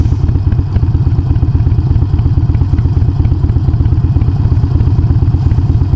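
A Harley-Davidson motorcycle engine runs loud and close, stopped at a traffic light on a hot day, with a fast, steady thumping idle and a rattling clatter.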